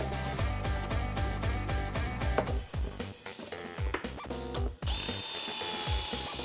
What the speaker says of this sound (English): the next step is to drill pocket holes so that I can attach these two pieces together